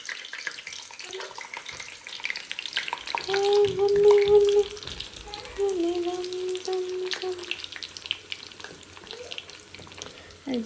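Two items frying in a pan in a home kitchen give a steady, close sizzle for the whole stretch. Faint voices and some tonal sounds rise over it midway.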